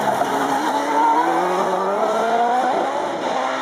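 Gould GR61X 3500 race car braking hard at the Gurston Down hill climb, its loud engine note dropping in pitch as it slows, with a smooth downward sweep lasting several seconds close by.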